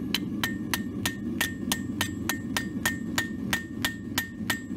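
A forging hammer strikes a hot blade in a steady, even rhythm of sharp metallic blows, about three per second, over a constant low roar from a propane forge.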